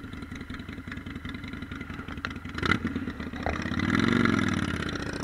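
A Harley-Davidson Street 500 motorcycle warms up at idle with a rapid, even, throbbing engine pulse nearby, a couple of clanks midway, then a brief swell in revs before settling.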